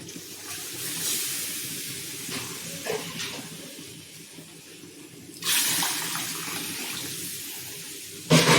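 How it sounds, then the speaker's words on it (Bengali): Hot water is poured into a pot of moong dal cooking with bottle gourd, a soft steady splashing stream that surges louder midway and again at the end, with no talk. "এখন আমি গরম জল দিয়ে দেবো।"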